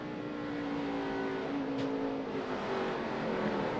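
NASCAR stock cars racing at Bristol during the 2010 Food City 500, a loud steady engine roar of the field with a car droning past, crowd and track noise beneath.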